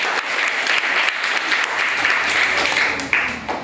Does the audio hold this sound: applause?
yes